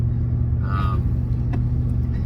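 A car interior on a long highway road trip carries a steady low road rumble and engine drone, with faint brief sounds over it.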